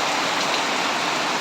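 Steady, heavy rain pours during a typhoon, a dense continuous hiss that stays close and loud throughout, with no voices.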